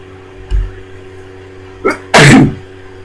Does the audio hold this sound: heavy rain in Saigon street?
no